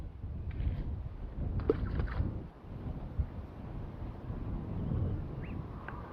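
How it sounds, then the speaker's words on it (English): Wind gusting outdoors at a carp fishing lake, a soft low rumble of buffeting against the microphone that swells and dips, faint throughout, with a few small knocks and clicks. "The wind's getting up, that's just not helpful."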